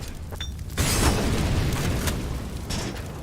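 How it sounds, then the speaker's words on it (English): A grenade blast in Counter-Strike: Global Offensive during an ESEA Advanced quarter-final match, a sudden loud broadband boom that lingers as a rumbling wash of debris and fire for several seconds. "A great nade from Jedker is going to take Mighty Max down to 56."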